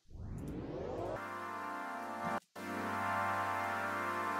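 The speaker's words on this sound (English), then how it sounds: "so this pad, it's a Harmer patch." Sustained synth pad from a Harmor patch in Ableton, swelling in with a rising sweep, then holding a wide, rich chord with a brief dropout before it resumes, steady and alone.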